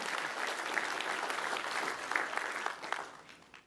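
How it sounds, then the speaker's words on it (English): A room full of people claps steadily for several seconds, the applause tapering off toward the end. "round of applause for Dori Clark."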